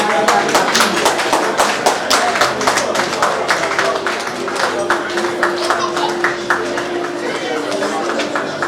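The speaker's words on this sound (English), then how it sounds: "A round of applause for you" Audience at an awards dinner giving a round of applause, a steady run of distinct claps in a loose rhythm, close and fairly loud, with crowd chatter underneath.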